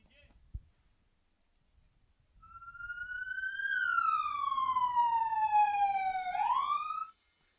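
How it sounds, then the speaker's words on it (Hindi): A wailing electronic siren at a cricket match sweeps up and slowly glides down, loud and steady for several seconds before cutting off abruptly. "सायरन है हमारा,"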